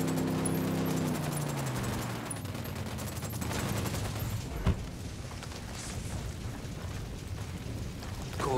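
Gunfire in the video game Ghost Recon: Wildlands, a dense, continuous fusillade of rapid automatic shots with one sharper crack near the middle, loud and sustained throughout with no talking.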